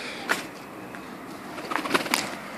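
A pigeon coos a few soft, breathy calls, brief and fairly close, with quiet background and no talking.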